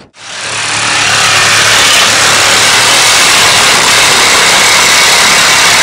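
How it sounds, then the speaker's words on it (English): A Makita power saw cuts through a metal trailer hitch lock with a loud, sustained, steady buzzing grind that starts abruptly and runs unbroken for several seconds close by. "these saws can buzz through there in literally seconds"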